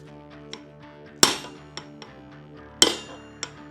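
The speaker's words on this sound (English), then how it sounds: "knock this side out a little bit with the hammer to try to push the motor out this side" Hammer blows knocking the hub motor out of an Ariel Rider Grizzly V3 e-bike, two sharp, loud metallic strikes with ringing decay and several lighter taps between them, close by with no talking.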